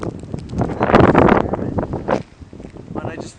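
Strong blizzard wind gusting and roaring through a Chicago suburb, buffeting the microphone in loud surges with blowing snow, close and rough, with no clear speech.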